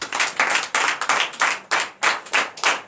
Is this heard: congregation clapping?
yes